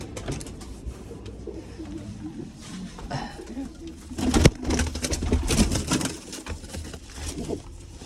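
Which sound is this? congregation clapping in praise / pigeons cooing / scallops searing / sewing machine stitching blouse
pigeons cooing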